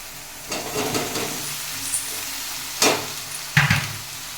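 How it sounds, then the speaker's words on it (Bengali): Vegetables stirred and sautéed with ground gadal leaf paste in a pan, giving a steady low sizzle broken by three louder hissing bursts as the food is tossed and stirred close by. "এই যে কাঁদার পাতাটা বেটে নিয়েছিলাম এটা দিয়ে দিলাম ভালো করে কষিয়ে নিতে হবে সবজিগুলো এবার আমি ঢেলে দেবো"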